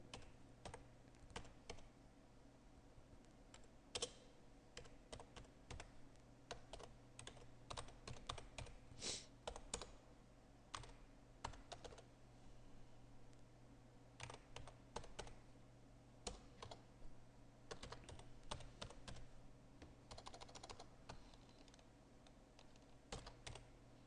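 Code typed on a computer keyboard in FreePascal, a steady close stream of light key clicks and occasional heavier taps, with no voice.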